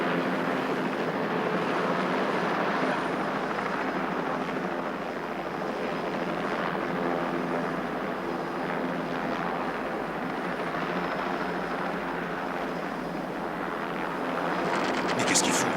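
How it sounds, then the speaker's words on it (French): A helicopter circles overhead, its steady rotor and engine drone continuous and fairly loud throughout, rising slightly at the end. "L'hélicoptère tourne en rond à présent."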